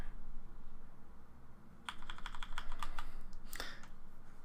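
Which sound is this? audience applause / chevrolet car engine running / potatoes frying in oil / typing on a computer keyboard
typing on a computer keyboard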